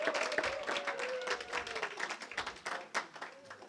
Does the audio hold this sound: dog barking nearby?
no